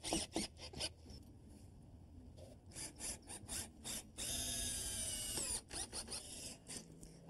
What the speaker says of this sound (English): Now all you have to do is screw it in place.